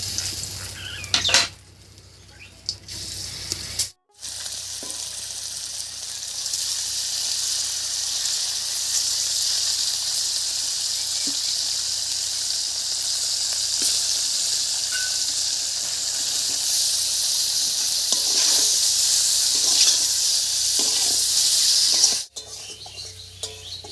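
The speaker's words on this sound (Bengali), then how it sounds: "এই সাদা তেলের মধ্যে এবার পনিরটা হালকা করে ভেজে নেব।" Paneer lightly frying in white oil in a pan, a steady, close sizzling hiss that holds throughout, with brief gaps and faint clinks of stirring.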